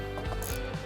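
A bolt on a universal undermount SUP rack is tightened with a ratchet, giving a few quick close clicking ratchet strokes in under a second, with no talking.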